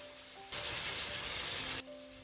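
Tomatoes, garlic and chilies in a pan on high heat burst into a loud, steady sizzle that holds for just over a second before dropping back to a quieter hiss.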